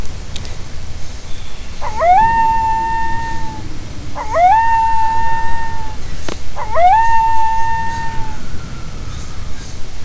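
Three rising, wavering dog howls from the Final Fantasy VIII video game, each a clear tonal cry of about two seconds, spaced evenly over a low background hum.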